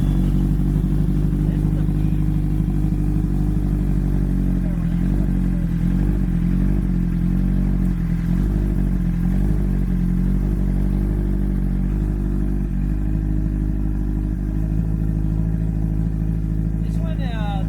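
Honda CBR1000RR Fireblade motorcycle exhaust idling and blipping through several revs, a steady mid-pitched engine drone with rising and falling surges, close and loud throughout.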